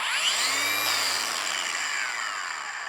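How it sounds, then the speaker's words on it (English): A Ryobi grinder winds down slowly after being switched off, its high whine sliding gradually lower and softer over about three seconds, heard up close with no talking. "It is a slower stop where a lot of the other professional grade grinders are going to stop much faster for you."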